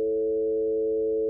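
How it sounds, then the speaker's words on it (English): A synthesized 440 Hz tone with a nasal, buzzy timbre sounds steady and unbroken for just over a second, alone and at constant loudness. "it still has the pitch of our original 440 hertz sine wave, but it's got a very different timbre"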